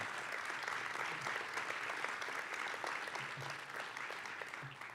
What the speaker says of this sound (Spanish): yo les voy a pedir otro aplauso por el éxito de estos teatros